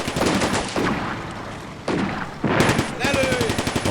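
Anti-tank gun fire in the World War II game Combat Mission rings out in several loud, sharp bursts with rattling gunfire between them, while someone speaks briefly over the battle.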